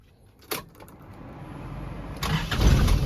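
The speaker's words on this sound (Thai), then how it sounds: "สตาร์ทฟังเสียงเครื่องยนต์ครับผม" A 1996 Nissan Big M pickup truck's diesel engine cranks and starts with a brief click, then settles into a steady low rumble that builds louder as it runs.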